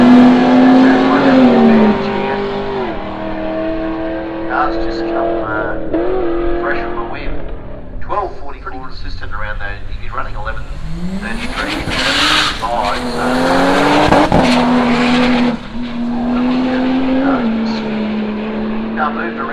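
Drag racing cars at Willowbank Raceway in a Street Series round launch and run down the strip, engines loud and rising, with tyre noise, under continuous commentary.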